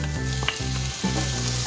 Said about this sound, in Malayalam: നെക്സ്റ്റ് ഇതിലേക്ക് നമ്മൾ തക്കാളി ഇട്ട് കൊടുക്കുവാണ്